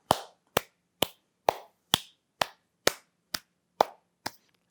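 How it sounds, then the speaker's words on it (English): Ten sharp hand claps sound in an even, steady rhythm, each crisp and close with a short decay, alone in a quiet room during a bodycare exercise routine. "And clap your hands."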